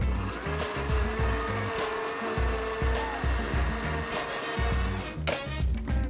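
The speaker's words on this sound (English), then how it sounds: "You literally just blitz these in the food processor and put them in a bowl." Food processor blitzing black beans for bean dip, a loud continuous motor whir with a rhythmic churning pulse beneath it that runs steadily throughout, with a brief knock near the end.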